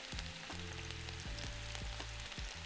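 Diced braising beef searing in hot oil for a slow cooker Thai red curry gives a steady, dense sizzle with a few faint knocks over a constant background hum, quiet and close, with no talking.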